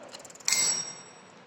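An electric bell in a school science experiment gives a single bright, metallic ding that rings on and slowly fades, fairly faint and heard alone.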